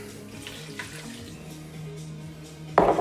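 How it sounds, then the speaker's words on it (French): A glass of white wine poured into a pot for Thai-style mussels, first a soft trickle over a low hum, then a sudden splashing gush near the end. "Vous mettez votre verre de vin blanc."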